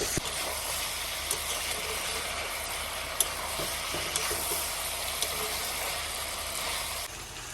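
Duck meat fries in oil with a steady, close sizzling hiss, broken by occasional clicks and scrapes as it is stirred in the pan.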